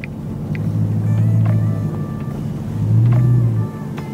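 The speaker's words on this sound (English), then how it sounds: "we're just gonna roll the car up here, man" A car rolls slowly up a long loading-dock walkway, its engine droning close by and swelling twice as it climbs, with faint clicks and light wind noise around it.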